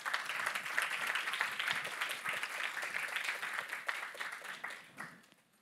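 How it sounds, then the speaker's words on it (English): An audience at a challenge finals event gives the expert judges a round of applause: dense, even clapping from many hands, fairly distant, tapering off at the end. "So let's give them a round of applause here."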